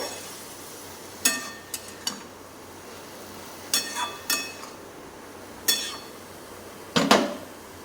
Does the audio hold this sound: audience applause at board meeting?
no